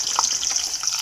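Onions frying in hot oil with fenugreek seeds for a colocasia and egg tamarind curry, a steady bright sizzle and crackle with no talking.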